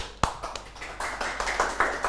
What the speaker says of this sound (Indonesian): Wak Ebo, tepuk tangan sekali lagi.